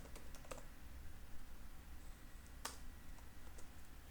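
Code is typed on a computer keyboard in quiet, irregular keystrokes, with a few sharper clicks and no talking.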